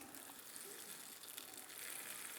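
Water being poured into a pot of beef stock and spices for birria, a steady broadband gush running throughout with no talk.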